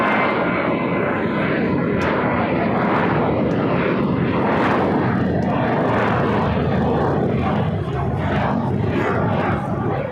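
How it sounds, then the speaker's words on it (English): American Airlines A321 taking off on runway 25 right at LAX, a loud, sustained jet engine roar that fills the whole stretch without letting up. "we do have that American A321 now taking off on 25 right"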